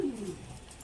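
Pigeons in a loft giving a soft, low coo that trails off, faint and alone against quiet background hiss.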